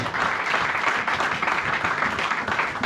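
A church congregation applauding during a service, dense continuous clapping from many hands filling the room, loud and steady throughout.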